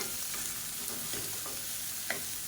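Grated bottle gourd being sautéed in a pan for chutney, a steady soft sizzle with occasional stirring scrapes and light clicks, close and fairly quiet, no voices.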